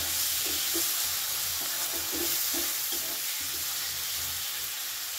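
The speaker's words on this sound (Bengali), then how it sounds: "খুব ভালো করে একটু নাড়াচাড়া করে নেব" Chili powder and coriander powder are stirred in a pan on a low flame for a mourola fish curry, with a steady soft sizzle and a series of spoon scrapes and taps, close and alone without talking.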